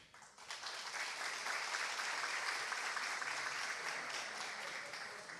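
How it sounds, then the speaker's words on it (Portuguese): An audience at an International Women's Day event applauds warmly, a dense, loud burst of clapping that rises quickly and holds steady throughout. "Vamos aplaudir."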